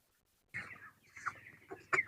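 Chickens on a small poultry farm in Pakistan give a few close, brief clucks and squawks after a moment of quiet.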